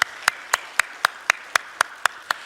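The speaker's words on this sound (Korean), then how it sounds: "우리 신실하신 하나님께 영광의 박수 올려드리겠습니다." A church congregation claps in unison for God, about ten sharp, evenly spaced claps at a brisk steady beat, crisp and close with quiet gaps between them.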